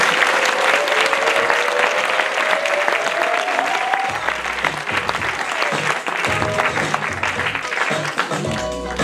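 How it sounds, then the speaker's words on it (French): Sustained applause from a large audience fills the space, continuous clapping that swells and holds, with a voice speaking briefly under it. "on peut l'applaudir"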